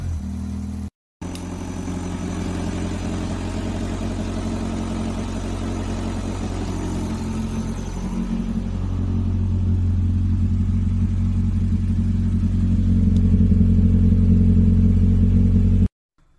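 A Classic Mini engine, freshly swapped, runs close-up in a steady, even idle for about sixteen seconds, with its deep hum growing slightly fuller and louder partway through as the revs rise a little.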